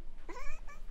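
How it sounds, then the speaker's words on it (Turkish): A cat in Poppy Playtime Chapter 3 gives a single clear, close meow, drawn out and slightly falling, with faint background noise around it. "Bakın arkadaşlar, bu da böyle bir kedi."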